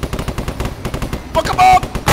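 Bursts of rapid firing-squad gunfire in Arma 3, dense volleys crackling loudly across the whole clip, with a pause and louder sustained burst near the end; voices shout faintly beneath.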